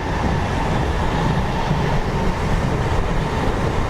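The Bitragunta to Chennai Central MEMU express rumbles steadily from inside the coach, with a loud, even rolling of wheels on track and a faint clatter as it runs toward a station stop.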